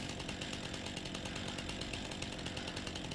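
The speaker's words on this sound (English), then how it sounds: "Let's get our chainsaw out and see." Chainsaw running in Farming Simulator 19 on the Waldsee map, a steady buzzing two-stroke drone held continuously at moderate loudness, alone without talk.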